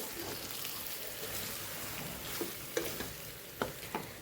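A spoon stirring dry farali potato bhaji with lemon juice in a pan: a soft background sizzle broken by a few sharp scraping clinks near the end.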